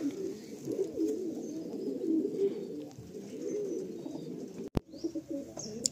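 Pigeons coo in a low, continuous, throaty murmur, many soft overlapping calls rolling on steadily throughout, with one brief sharp click near the end.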